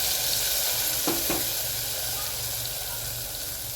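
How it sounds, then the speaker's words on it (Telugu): Tamarind juice goes into a hot pan for a prawn and raw mango stew, a steady hiss of frying throughout with two brief splashy bursts near the start, no talking. "మన చింతపండు రసాన్ని పోసేసి"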